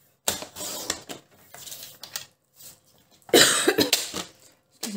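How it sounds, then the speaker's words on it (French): Repeated coughing from a person with a lingering cough after Covid, several harsh bursts close to the microphone with a louder fit near the end, no talk. "j'arrête pas de tousser"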